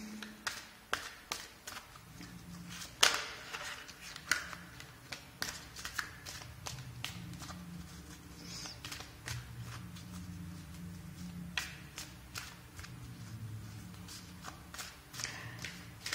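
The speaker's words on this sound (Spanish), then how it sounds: "Vamos a empezar a barajar." A deck of tarot cards is shuffled by hand in a quiet room, with soft, irregular riffling and tapping bursts spread throughout.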